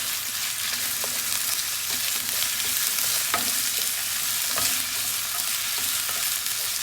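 Ground beef, about a pound, browns in a pan with a steady, even sizzle and crackle throughout, close and moderately loud, with a few soft scrapes of stirring and no voices.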